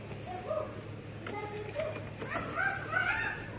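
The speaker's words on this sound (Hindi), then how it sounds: "क्या हुआ? डॉगी।" A pet dog barks and whimpers indoors at home, giving short yips and whines under a voice and household noise, quiet and close by.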